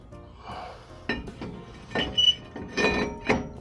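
A brake rotor from a Dodge Ram 1500 front suspension rebuild is handled, giving several close metallic clinks and thunks at irregular intervals with no talk.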